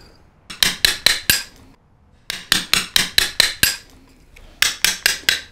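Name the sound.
hammer and chisels carving a stone sculpture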